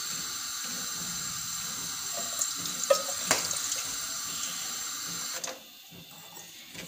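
Milk poured into a saucepan on the stove for jaggery tea makes a steady, close liquid splash and hiss for several seconds before thinning out and stopping.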